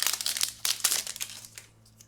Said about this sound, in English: let's just have a quick flick through these event cards